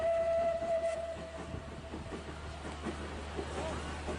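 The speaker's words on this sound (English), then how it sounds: "Train makes his way across." Train passing a football ground during a Ramsbottom United versus Workington match, a steady rumbling rail roll with a brief whistle-like tone at the start, distant and continuous under crowd ambience.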